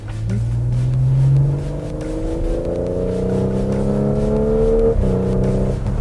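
A 2017 Audi SQ5 engine revs up steadily toward its 6,000 rpm redline, pitch climbing higher and higher, loud and close, with a brief dip near the end.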